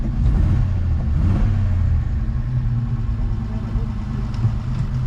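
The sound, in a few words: Rover P4 car engine accelerating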